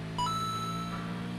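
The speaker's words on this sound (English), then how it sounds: "Can you just make the coin sound, please, Chastity?" A short electronic coin chime sounds once, a bright two-tone ping ringing out over the steady drone of V8 Supercars racing at Watkins.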